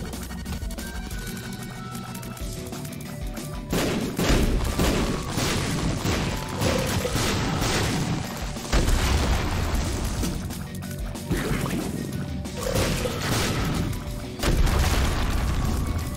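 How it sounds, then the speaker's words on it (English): Bombs exploding in The Binding of Isaac video game, with several dull booms and crashing bursts over a busy game soundtrack, without speech. "I'm trying to throw my bombs at him, that way he could get hit with it."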